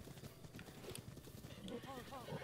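In Zelda: Breath of the Wild, a horse's hooves clop in a quick, steady galloping rhythm, faint beneath a player's talking and some game sounds.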